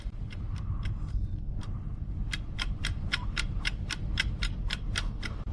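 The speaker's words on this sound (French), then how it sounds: "C'est une bombe." A ticking time bomb clicks steadily and sharply, close by, pausing briefly before the rapid regular ticks resume over a constant low vehicle rumble.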